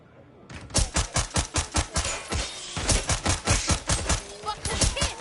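Gunfire in the video game Watch Dogs Legion: a long string of sharp, rapid shots in quick bursts, loud and close, continuing steadily with only brief gaps between volleys.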